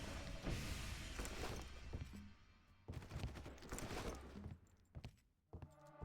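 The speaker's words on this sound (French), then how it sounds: "Qui tire?" Rapid, dense gunfire from the video game Far Cry, bursts of shots and thuds that come in waves with short lulls between them, loud and close throughout.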